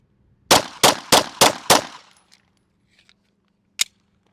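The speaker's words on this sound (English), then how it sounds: "And we're shooting at about 12 yards." Five pistol rounds fired in quick, even succession at about 12 yards on a shooting range, loud and sharp, followed by silence and then one lone metallic clink.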